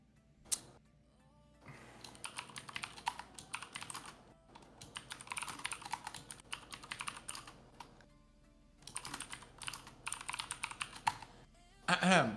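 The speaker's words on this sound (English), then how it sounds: "So I'm typing in all caps." Typing on a computer keyboard in bursts of rapid, close clicking, with brief pauses between runs and faint background sound.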